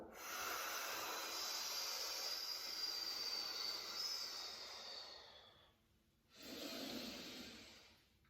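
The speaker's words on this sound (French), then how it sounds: "Et on souffle, et on se dégonfle comme un loup." Long, steady exhale through the mouth during a belly-breathing exercise, a breathy hiss lasting several seconds, then a short pause and a second breath, close and alone.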